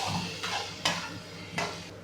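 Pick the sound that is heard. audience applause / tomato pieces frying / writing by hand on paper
tomato pieces frying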